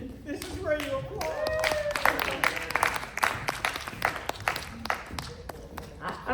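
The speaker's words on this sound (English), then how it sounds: "This is where you applaud." A comic convention audience claps and applauds, with many separate hand claps forming a dense, lively patter, and voices talking and calling out over it throughout.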